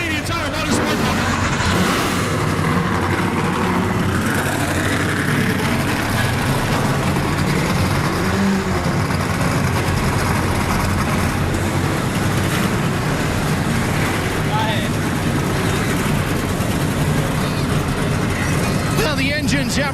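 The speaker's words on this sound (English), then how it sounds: "The engines have roared to life here north of the border" NASCAR Camping World Truck Series Chevrolet Silverado race truck engines roaring together at Canadian Tire Motorsport Park, a loud sustained mass of engine noise with revving swells, an announcer's voice talking over it throughout.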